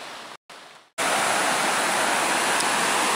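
Sycamore Creek flowing steadily, a loud, even broadband rush of water close by that fills the clip after a couple of brief gaps at the start.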